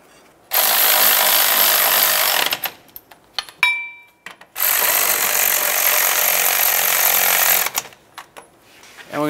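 A power tool runs in two long, loud bursts, driving the caliper bracket bolts into the front brakes of a 2007-2014 Chevy Silverado 2500 HD, with short clanks and rattles between the bursts.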